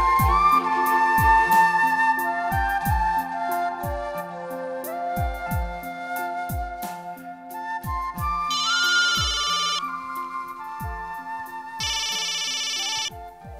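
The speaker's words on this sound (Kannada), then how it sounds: "ನೋಡಿ, ಅವನೇ ಫೋನ್ ಮಾಡ್ತಿದ್ದಾನೆ." Mobile phone ringtone of an incoming call, a loud melodic tune of repeating plucked notes with brief bright bursts, playing alone for over ten seconds.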